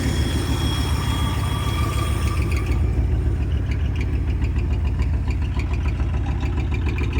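The V8 engine of a 1973 Ford F-250, running for the first time in 18 years, idles with a loud, rough, rapid chugging and a knocking rhythm, heard up close without speech.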